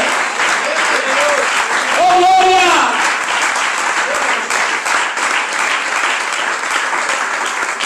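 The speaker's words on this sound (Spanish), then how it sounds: "Dale fuerte el aplauso a Cristo porque Él es bueno" A church congregation claps strongly and steadily through a worship service, while a voice exclaims in praise over the applause early on.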